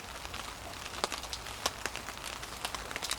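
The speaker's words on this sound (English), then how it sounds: "as you can probably hear, the rain's setting" Light rain patters on a cold woodland camp with a hammock, a soft dense hiss broken by scattered sharp drips and taps, faint and steady with no voices.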